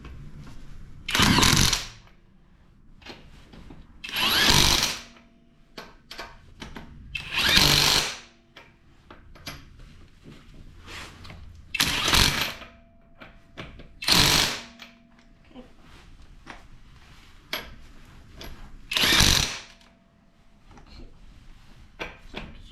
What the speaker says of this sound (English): So now we're going to put the lug nuts back on the tire.